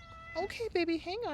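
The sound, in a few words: cat meowing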